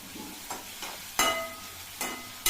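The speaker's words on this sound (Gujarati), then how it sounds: "જો આ કાંદા સાતળાય છે અને હવે એમાં આપણે મરચાં નાખી દીધા છે." Onions and chillies sautéing in a pan on a gas stove while cooking baingan bharta, with a soft continuous sizzle broken by a few sharp spoon-on-pan clanks and stirring scrapes.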